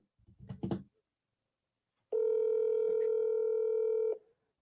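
A single long telephone ring tone sounds alone for about two seconds, steady and clear, after a brief burst of muffled noise, while a call is placed to a forwarded number.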